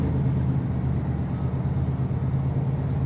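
A car drives through snow, its engine giving a steady, close, continuous low rumble with road and tire noise and no pauses.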